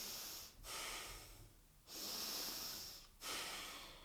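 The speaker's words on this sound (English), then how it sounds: "A lot of people are more like a shoulder breathing person," Demonstration of shoulder breathing, three loud, close, hissing breaths through the nose or mouth, each a long rushing inhale or exhale separated by short pauses, with no talking.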